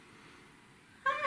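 A kitten lets out a single short, high meow at the very end after a stretch of quiet room hum.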